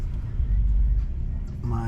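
A Tesla Cybertruck drives in Houston, heard from inside the cab as a loud, steady low-frequency road and wind rumble.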